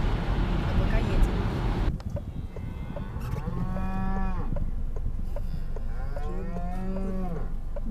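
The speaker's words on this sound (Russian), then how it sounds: "Привет, коровки!" Cows in a roadside field in the Netherlands moo repeatedly in long, drawn-out calls, heard from a passing car over steady road and engine noise, with people talking nearby.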